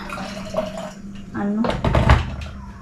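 Hot water poured from a container at home, a brief splashing gush that rises under and between muffled talk nearby.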